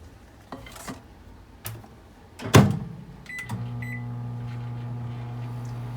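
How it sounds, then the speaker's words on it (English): Microwave oven heating ramen for 90 seconds: a few clicks and a clunk of the door closing, a beep, then a steady loud hum with a fan whir running alone. "And now we need to heat this for 90 seconds."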